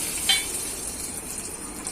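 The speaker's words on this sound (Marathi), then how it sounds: "आता हा थोडासा कढीपत्ता टाकूया." Curry leaves drop into hot oil already crackling with mustard seeds for a tempering. A sharp burst of spatter at the start settles into a steady, close, hissing sizzle with no talking.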